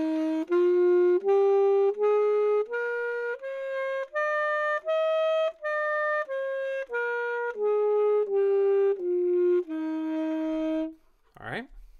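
A slow ascending and descending scale on a beginner woodwind such as a clarinet or saxophone, each note held about a second in a clean, steady sequence up and back down, ending with a short upward swoop.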